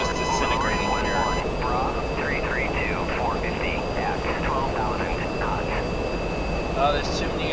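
Jet aircraft engines whine steadily on an air base airfield in the DCS flight combat game, a loud constant drone with a voice talking over it.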